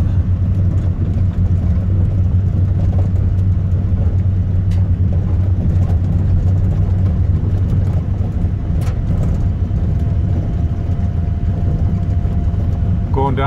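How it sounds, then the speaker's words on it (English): A 1968 Dodge rolls downhill in low gear on a bumpy forest service road, giving a loud, steady low engine drone with rattles and jolts, while someone talks over it. "Going downhill, so I got it in low gear so I don't have to ride the brakes. It's bumpy."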